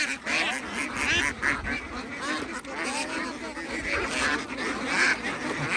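Many ducks quacking together in a dense, continuous clamor, loud and close, with no pauses.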